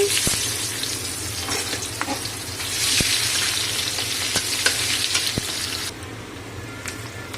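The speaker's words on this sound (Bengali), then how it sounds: "এই মাছ ভাজার তেলেতেই পেঁয়াজ দিয়ে দিচ্ছি।" Onions sizzle steadily in hot oil left from frying rohu fish, with occasional stirring clinks over a loud continuous hiss.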